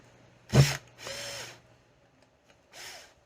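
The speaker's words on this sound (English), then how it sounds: "Hopefully we have enough power in this drill, because they are pretty long." A power drill drives long screws while servicing an Arrma Vorteks RC car, with one loud burst followed by two longer, quieter runs of whirring as the screws go in, separated by pauses.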